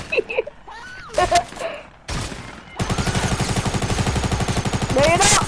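Gunfire in a PS4 shooter game: scattered shots and short bursts at first, then a loud, sustained rapid automatic fusillade, with voices chattering underneath early on.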